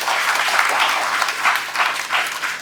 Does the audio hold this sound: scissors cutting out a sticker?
no